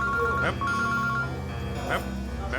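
A phone rings with a bright electronic tone in short repeated bursts, heard over a low background hum at moderate volume.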